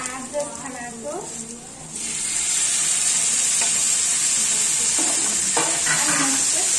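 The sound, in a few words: onions and tomatoes frying in a pan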